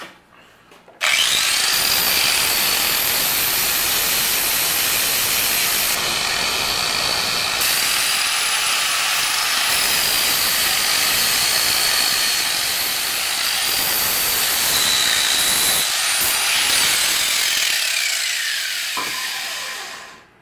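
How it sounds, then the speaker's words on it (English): A flap wheel sanding disc on an angle grinder scours metal during a Club Car golf cart engine swap, a loud, steady high-pitched whine holding for about eighteen seconds with shifting pitch and no talking. "This is just a flap wheel. It's basically sandpaper on a grinder wheel"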